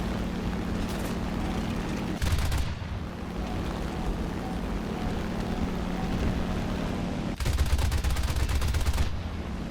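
Aircraft machine guns in War Thunder arcade air combat, a J2M2 fighter against a Corsair and a Beaufighter, fire in two rapid bursts of dense chattering shots over a constant engine drone.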